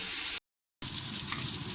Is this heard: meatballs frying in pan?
yes